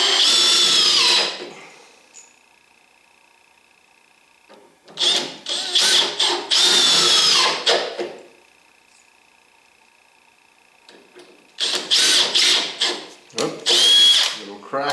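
Power drill driving screws into a wooden reloading bench, three loud whirring bursts of a couple of seconds each, separated by quiet gaps with a faint steady hum.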